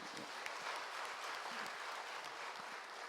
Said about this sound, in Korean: 우리 인사하실 때 큰 박수로 격려해 주시길 바랍니다